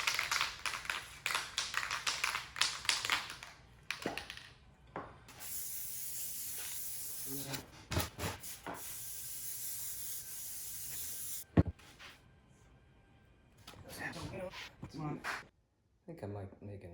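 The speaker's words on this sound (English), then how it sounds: "Gorilla spray adhesive." Several bursts of hissing spray from a can of Gorilla spray adhesive, one long steady spray in the middle, with rubbing and handling noises and pauses between.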